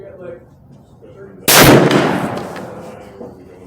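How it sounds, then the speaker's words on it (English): A rifle shot rings out while the rifle rests on its stock during target shooting, a single loud, close blast with a long decaying echo, preceded by soft background voices. "First shot's gonna be left upper target with a rifle resting on the stock."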